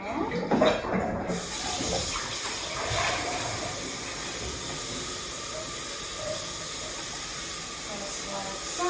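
Water runs steadily into a blender jar as it is rinsed at a kitchen sink, a continuous hissy splash with a brief louder burst at the start, fairly close.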